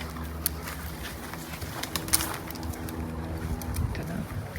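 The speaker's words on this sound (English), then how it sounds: "Pigeon." A pigeon coos softly outdoors, low repeated calls mixed with rustling, wind and scattered clicks.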